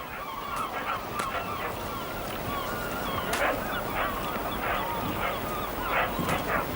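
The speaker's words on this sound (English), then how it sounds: "Accompanied as usual by hordes of dogs" Dogs on a remote island fishing village pier yip and bark in short scattered bursts over a constant outdoor background, with honking, goose-like calls mixed in at moderate distance.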